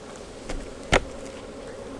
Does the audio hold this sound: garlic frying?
no